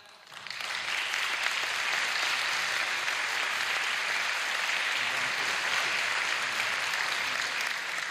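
Sustained applause from an audience at an awards ceremony of the Carpathia Festival song contest in Rzeszów, rising quickly within the first second and then holding steady and dense, with no talk over it.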